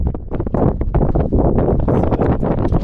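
Wind buffets a microphone outdoors beside a 2011 Honda Zoomer GY6 150cc scooter, a loud, continuous low rumble with gusty surges throughout and no clear speech.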